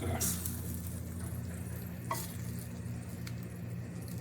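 Eggs with peppers, onions and ham frying in a pan, a steady close sizzle with a few scraping stirs of a spatula and a low hum underneath.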